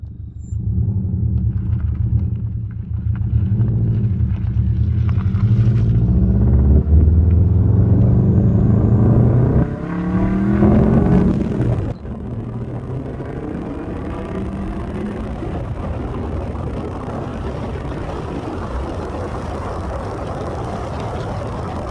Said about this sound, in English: probably the best, I guess, thing about this car is the exhaust